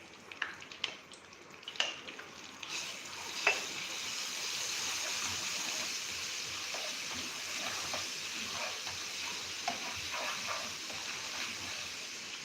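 Ginger, chili and garlic paste sizzles in a hot pan with a steady, even hiss, and a few sharp clinks of stirring come at the start, with no talking over it.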